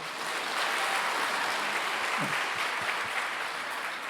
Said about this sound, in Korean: 우리 병영교회만큼이나 박수를 잘 쳐주십니다.